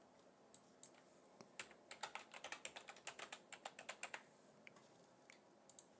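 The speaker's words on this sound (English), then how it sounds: "Damn, I typed that flawlessly." Fingers tap a computer keyboard in a quiet room, starting with scattered keystrokes, then a quick run of crisp clicks, then a few last taps. The sound is close and soft, with no talking.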